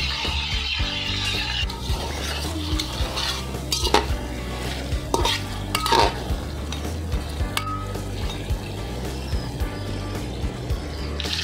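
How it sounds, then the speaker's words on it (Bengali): Chicken pieces fry in hot oil and ghee for biriyani, a steady close sizzle broken by repeated scraping stirs and metal clinks against the pan. "তেলটা আর ঘিটা গরম হওয়ার পরে এবার দিয়ে দিচ্ছি আমি মাংসগুলো।"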